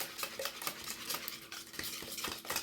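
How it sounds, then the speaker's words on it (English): Eggs whisked into pancake batter for a blueberry Dutch baby, a quick run of close, rhythmic whisk strikes against the bowl, steady and fairly soft, with no voices. "We're going to add our eggs and get them whisked in."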